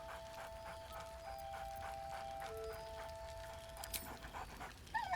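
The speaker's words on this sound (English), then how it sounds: "Scratch barks merrily in something like agreement." Scratch the dog in Baldur's Gate 3 makes quick, breathy panting bursts and a few soft whimpers over a constant hum of game ambience, close and fairly quiet, with no speech.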